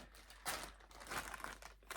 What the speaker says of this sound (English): I keep most of my things in just a plastic bag.